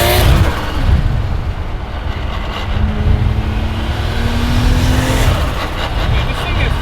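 A big-turbo 1JZ Toyota Soarer accelerates hard in second gear, its engine roar loud and close from inside the car with a rising whine and turbo hiss. Brief voices come through under the engine.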